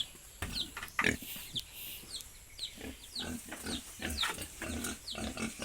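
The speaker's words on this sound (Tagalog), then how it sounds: "ito yung mga baboy ko" Pigs in a farm pen just after feeding, grunting and snorting repeatedly in short irregular bursts at close range, fairly quiet overall with no talk.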